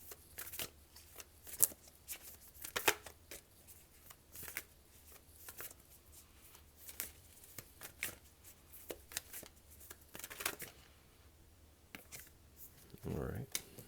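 A Bhagavad Gita tarot deck is shuffled by hand in a rapid series of soft riffling snaps and card slaps, close and fairly quiet, with a voice speaking briefly near the end.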